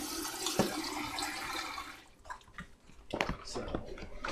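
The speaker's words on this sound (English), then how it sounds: "you gotta always make sure you gotta wash the cabbage" Tap water runs and splashes over cabbage being washed in a kitchen sink, a steady broadband rush that drops out midway and returns in uneven spurts, with voices talking nearby.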